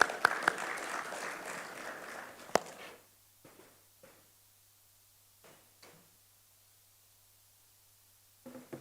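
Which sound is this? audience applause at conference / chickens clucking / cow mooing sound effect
audience applause at conference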